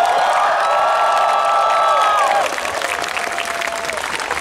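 A live concert crowd claps and cheers with steady, dense applause, while a voice rises above it at first and then fades, leaving the clapping to carry on.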